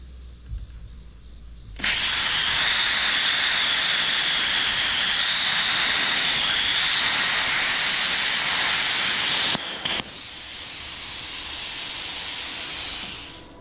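A BestArc BTC5000DP Gen 10 budget plasma cutter slicing through metal, a loud, sustained hissing roar that starts abruptly after a short quiet lead-in, runs for about eight seconds, stutters, then carries on at a lower level before cutting off.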